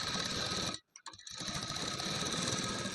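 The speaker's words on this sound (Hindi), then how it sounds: "इस तरह से हम अपने पूरे कपड़े पे सिलाई कर लेंगे।" Sewing machine stitching blouse fabric, a fast steady mechanical whir running close and clear, broken by a brief stop near the middle before resuming.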